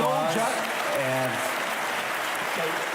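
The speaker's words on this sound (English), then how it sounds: "We'll give you a round of applause." A debate audience claps in steady, sustained applause filling the hall, moderately loud, while a voice talks over it near the start.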